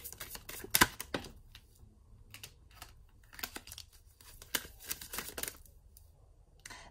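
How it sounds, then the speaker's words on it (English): Tarot cards shuffled by hand in a quiet room, a series of crisp, irregular riffling and flicking bursts with short pauses between them, close to the microphone and fairly faint. "Let's get them back and let's continue shuffling."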